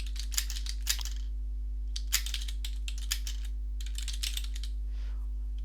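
Computer keyboard clattering up close in short bursts of rapid key presses separated by brief pauses, a few sharper single clicks standing out, over a steady electrical hum with no talking.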